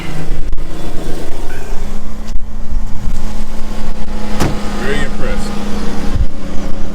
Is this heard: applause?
no